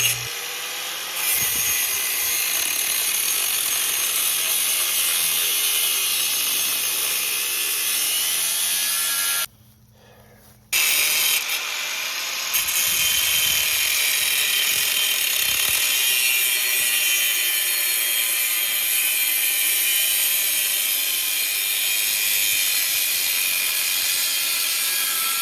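A stump grinder chews into wood with a continuous loud high whine and gritty grinding, cutting out briefly for about a second before roaring back and running steadily.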